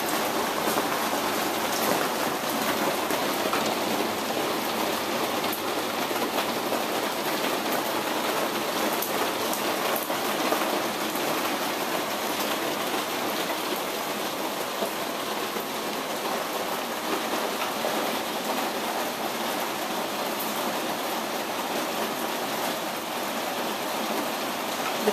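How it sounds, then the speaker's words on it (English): Heavy rain pours steadily into a leaking sunroom, a dense, continuous patter on a nearby surface with no pauses and no voices. "now it's raining all over the sunroom."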